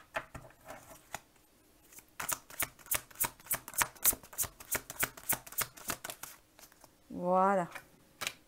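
Tarot cards being shuffled by hand: a steady run of crisp riffling flicks, close and fairly quiet, with a short spoken phrase near the end.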